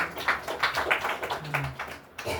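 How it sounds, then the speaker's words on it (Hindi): A congregation claps together at a night prayer service, a dense run of overlapping hand claps in uneven bursts that fills the room, with a brief lull before it picks up again. "ये ताली मारेंगे।"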